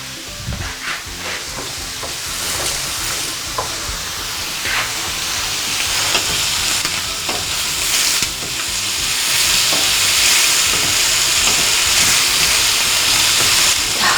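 Prawns fry loudly in a pan for risotto, a bright, steady sizzle with occasional stirring scrapes that swells slightly louder toward the end, with no one talking.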